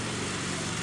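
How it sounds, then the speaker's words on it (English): Continuous droning engine hum of a lawn mower running steadily in the background, with no voices. "I'm sorry about the lawnmower in the background."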